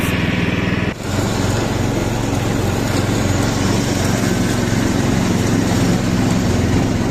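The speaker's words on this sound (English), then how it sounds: "There you go, grass is now cutting." A ride-on mini tractor mower engine with a faulty throttle roars loud and steady while cutting grass, with a brief dip in the drone early on.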